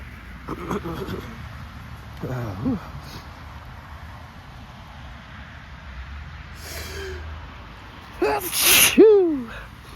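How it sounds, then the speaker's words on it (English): Several wet, explosive human sneezes burst out at intervals, one close and loud near the end, each with a sharp gasp-and-release shape over faint outdoor rain and background noise. "Oh, those are wet. Whew, those are wet sneezes."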